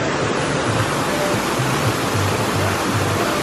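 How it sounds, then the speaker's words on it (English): Steady, loud rush of a waterfall among palm trees in Miami, a dense continuous roar with no pauses, close and alone with no voices over it. "The waterfall."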